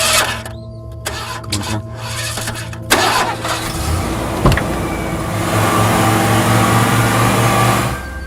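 A car engine cranks with a stuttering starter whir, catches with a jolt, then settles into a steady, loud idle rumble that carries on to the end, with no speech over it.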